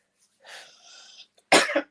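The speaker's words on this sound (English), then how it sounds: "It's giving me a cough." A single sharp cough, close and fairly loud, follows a brief low murmur of voice.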